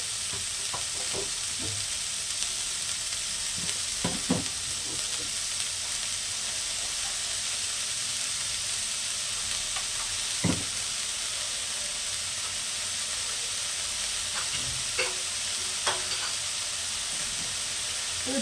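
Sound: onions frying and being stirred in a pan for beetroot palya

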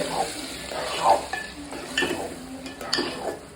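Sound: stirring ghee-fried cashews into thiruvadhirai kali

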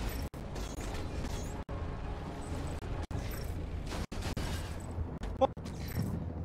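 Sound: shooting and explosions in video game Archangel

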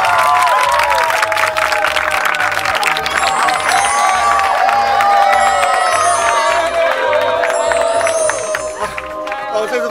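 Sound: audience applause and cheering

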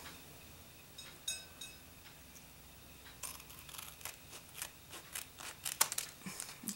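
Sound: scissors cutting juice carton packaging

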